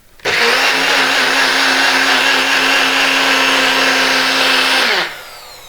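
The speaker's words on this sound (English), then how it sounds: "And then we're going to blend" A blender whirs through a blueberry smoothie, starting abruptly, holding a loud steady high-pitched motor roar for about five seconds, then winding down as the motor spins to a stop.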